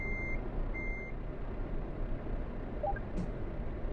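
Repeated reversing beeps from a truck backing into a parking spot in Euro Truck Simulator 2, two short electronic tones over a steady engine drone, followed by a brief hiss like an air brake.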